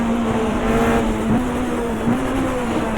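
Race car cornering at Oran Park during a 1994 GTR2 Australian Manufacturers Championship race, a loud, close, steady engine drone with a pitch dip as it works through the corner.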